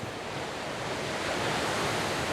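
The Caracol waterfall in Canela roars in a dense, steady rush heard from right at its foot, a loud broadband wash of falling water with wind buffeting the microphone and no voices.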